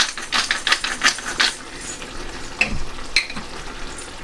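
Thai green curry chicken is stirred in a hot pan, giving a steady sizzle with a run of quick scraping and clicking strokes from the utensil, followed by a few scattered heavier knocks.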